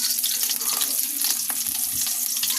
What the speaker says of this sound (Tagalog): Ihalo lang natin sa mantika. Gisahin lang natin ito hanggang sa mag-golden brown.